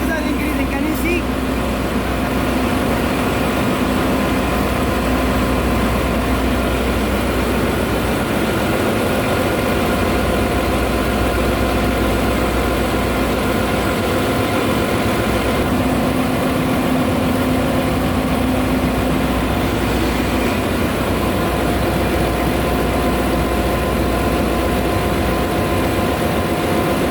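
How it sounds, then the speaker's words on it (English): A ship's number 3 diesel generator runs in the engine room, a loud, steady, continuous mechanical roar with a constant low drone that fills the whole stretch. "right now my number 3 generator is running"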